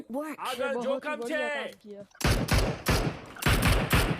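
Gunfire from the mobile battle royale game BGMI: a voice talks for about two seconds, then loud, close bursts of rapid shots follow in three clustered volleys with short gaps between them.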